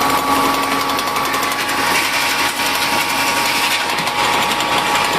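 An extruder motor runs steadily with a constant high whine and mechanical hum, loud and close, no talking.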